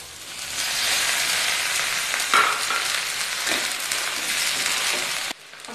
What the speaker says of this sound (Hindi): हमारी प्याज हल्की सी फ्राई हो गई है। अब डाल देंगे इसमें हम टमाटर